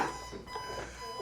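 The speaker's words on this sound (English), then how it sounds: "That alarm. Love that alarm." A steady electronic alarm tone rings continuously at moderate loudness, with faint voices murmuring underneath.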